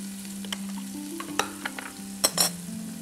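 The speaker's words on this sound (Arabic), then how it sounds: "كل الخلطة هيك بقلبها مع بعض شوي" Garlic, onion, ginger and spices sizzle steadily in a pan while being stirred, a constant close frying hiss with scattered scrapes and clicks of the utensil and no talking.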